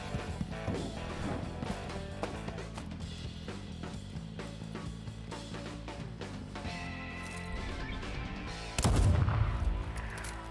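Rapid bursts of video game gunfire crackle through a busy game soundtrack, with repeated shots early on and a louder, heavier blast near the end.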